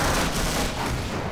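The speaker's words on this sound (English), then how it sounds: "That's a grenade." Grenade explosion in Half-Life, a loud, dense, rumbling blast that fills the whole moment with broadband roar and no clear onset or fade.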